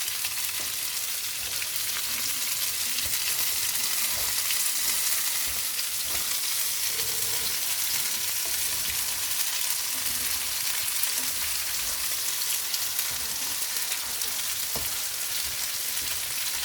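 Cantonese fried rice cooking in a pan, giving a continuous loud, dense crackling sizzle with faint occasional stirring taps, steady and close throughout, with no voices.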